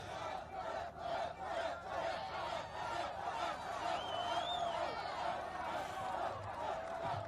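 A large outdoor political rally crowd for JD Vance on a hot day, cheering and roaring continuously at steady volume, with scattered shouts rising above the massed voices.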